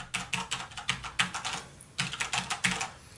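Quick, close keystrokes on a Corsair K70 mechanical keyboard with brown switches tap out in brisk, uneven bursts, a slight pause in the middle, each press a crisp, moderately loud clack with no talking.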